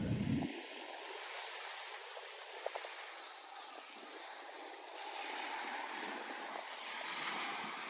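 Waves wash in along a beach at Burhaniye İçmeler while someone fishes from the shore, a soft, continuous rush with gentle swells of surf that rise and fall, mixed with light wind noise and no talk.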